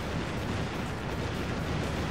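Naval gunfire from a warship in Warship Gunner 2, a dense, continuous roar of blasts and booms with no pauses and no talking.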